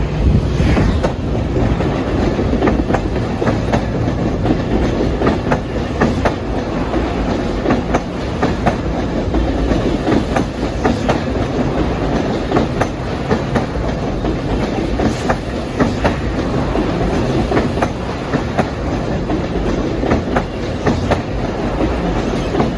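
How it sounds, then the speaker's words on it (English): An LIRR Main Line express train of M3 cars passes loudly and close, with continuous heavy rumble and rhythmic clickety-clack of wheels over rail joints throughout. "approaching on track 3 at 4:53 is train 1992. Penn Station to Ronkonkoma Express."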